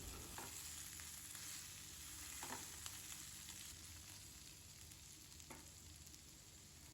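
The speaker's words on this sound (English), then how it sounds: "in the same pan, add oil, half onion, half tomato, curry leaves, roast for 2 to 3 minutes." Onion, tomato and curry leaves roast in hot oil in a pan, giving a steady, continuous sizzle and crackle throughout, with a few soft stirring scrapes and no talking.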